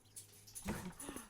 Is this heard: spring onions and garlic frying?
no